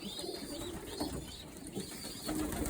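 Young pigeons in a loft box coo softly in low, repeated rolling calls, fairly faint against a steady background hiss.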